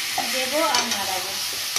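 Semolina stirred and lightly roasted in a pan, a brief soft scraping and gentle dry sizzle, close by and quiet.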